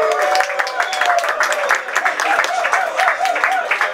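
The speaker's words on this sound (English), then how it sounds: "Big round of applause for YouTube." An audience at a Web Wednesday Hong Kong tech event claps to welcome a guest from YouTube, scattered medium-sized applause running for a few seconds under a faint tonal hum and some background voices.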